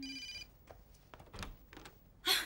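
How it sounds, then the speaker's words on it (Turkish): A telephone bell rings in a short electronic trill, then after some faint clatter a second loud ring bursts in at the end. "Telefon çalıyor."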